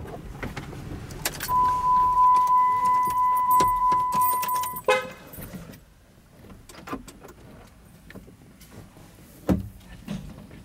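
Someone gets out of a Ram 1500 hybrid pickup truck, with keys jangling, a steady high-pitched door chime for a few seconds, then a solid door slam followed by shuffling and a second thud, close and fairly clear.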